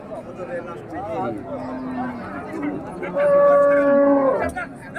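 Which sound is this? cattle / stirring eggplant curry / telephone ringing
cattle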